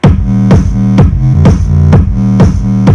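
Electro bass synth layer with EQ treble adjustments, playing a thick, buzzy repeating note that retriggers about every half second in a steady pulse, loud and alone.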